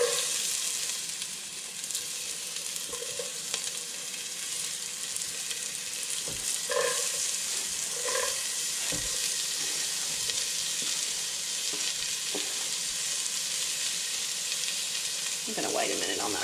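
Vegetables for a garden ratatouille sauté in a hot pan with a constant close hiss and sizzle, with a few faint clinks of stirring along the way.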